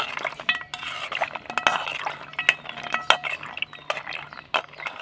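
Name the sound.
stirring sweets in syrup with a spoon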